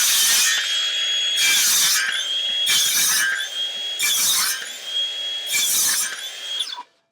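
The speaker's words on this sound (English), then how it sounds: "I'm going to cut the rest out" Handsaw cutting through timber while building a garden room, five steady bursts of strokes close by and loud, each separated by brief pauses, ending as the piece comes free.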